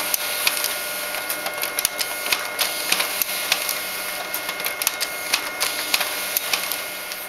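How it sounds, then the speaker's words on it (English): Office printer printing the reverse side of A4 sheets of Filofax contact pages: steady mechanical whirring with rapid clicking and ticking transients throughout, close and fairly loud, no voices. "And here it is, printing the reverse side."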